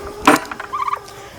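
A short, loud turkey gobble rings out close by, a quick warbling burst followed by a softer trailing call.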